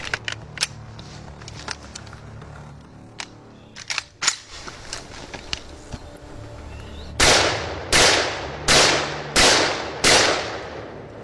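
Kalashnikov rifle, AKM, firing 7.62 rounds outdoors: five loud sharp shots at a steady pace near the end, after scattered fainter distant pops and clicks.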